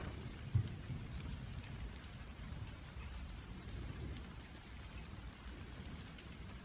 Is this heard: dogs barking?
no